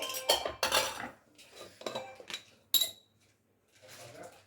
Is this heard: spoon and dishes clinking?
yes